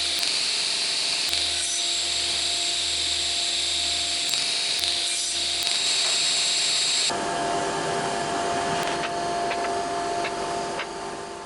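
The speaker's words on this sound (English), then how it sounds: "I set the cross-cut fence to 45 degrees and cut the mitters for the corners of the frame" A table saw with its crosscut fence set to 45 degrees whines steadily while mitering wooden strips for frame corners, loud and continuous, with the pitch shifting as the blade cuts through the wood.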